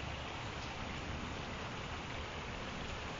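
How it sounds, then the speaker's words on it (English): Water from a discharge channel at a hazardous waste landfill pours steadily into Sulfur Creek, a continuous broadband rushing wash with no breaks, moderately loud and close, with no voices. "You can actually hear the water running out of the discharge channel into the creek"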